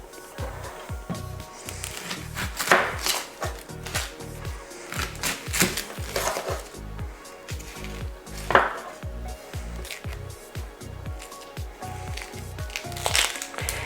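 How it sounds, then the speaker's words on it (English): A knife chopping a small onion on a board, a quick run of close, fairly faint taps repeating steadily, with a few louder clatters in between. "we're going to cut up a small onion"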